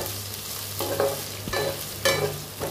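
Spoon scraping and stirring through dry okra and potato fry with ginger, garlic and green chili in a pan, several distinct strokes over a low, steady sizzle, close and moderately loud.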